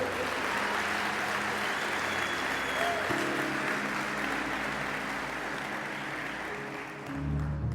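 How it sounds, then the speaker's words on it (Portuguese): Congregation applauding at an evangelical church conference, a dense, steady wash of clapping from a large crowd that holds for several seconds, with low tones and a voice faintly underneath, swelling slightly at the end. "Eu, se fosse você, aplaudia esse Deus maravilhoso."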